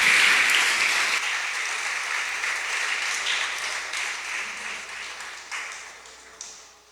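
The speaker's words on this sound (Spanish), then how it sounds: "Nos despedimos con aplauso de toda la gente que está conectada." Congregation applause at the close of a church service, a dense wash of clapping that starts loud and slowly thins out over several seconds, with no one speaking.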